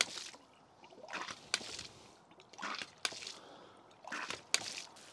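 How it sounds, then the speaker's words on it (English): Water leaking back past the swing check valve of a 2-inch ram pump, heard as soft wet sloshing and gurgling that swells in three or four recurring bursts, each closing with a sharp click, fairly faint and close by. "water leaks back past the swing check valve here, and the pressure leaks back out"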